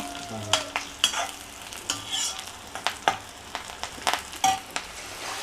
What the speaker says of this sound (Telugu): కొంచెం ఎండుమిరపకాయలు ఫ్రై అయిపోతే